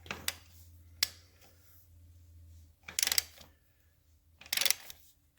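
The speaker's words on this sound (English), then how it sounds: "we're going to tighten the top transmission bolt and then we're going to check the bottom transmission bolt" A wrench tightens a transmission bolt on a 1974 Norton Commando engine, giving a few quiet metallic clicks followed by two brief, louder ratcheting bursts, close by and spaced apart, with no talking.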